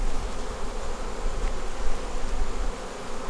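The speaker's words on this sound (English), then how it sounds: "if I can get these bees off of me" Honey bees swarm and buzz steadily around a beekeeper working at the hives, a dense, continuous drone close by with no talking.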